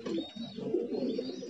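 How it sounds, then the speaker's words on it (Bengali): Giribaz pigeons coo softly at close range in a loft, a brief run of low throaty burbling calls. "এগুলো হচ্ছে গিরিবাজ জাতের কবুতর"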